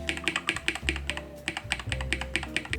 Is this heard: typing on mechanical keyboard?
yes